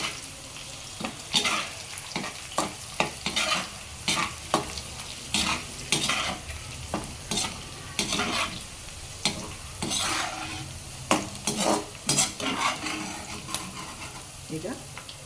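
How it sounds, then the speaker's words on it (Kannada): Broken dried Byadagi chillies frying in oil in a pan for spicy poha, steady close sizzling punctuated by irregular scraping and clinking of a ladle stirring throughout. "ಈಗ ಫ್ಲೇವರ್ಗೋಸ್ಕರ ಒಂದು 3 ಒಣಮೆಣಸಿಕಾಯಿ, ಬ್ಯಾಡಗಿ ಮೆಣಸಿಕಾಯಿ ತುಂಡು ಮಾಡಿ ಹಾಕ್ಕೊಳ್ತಾ ಇದ್ದೀನಿ"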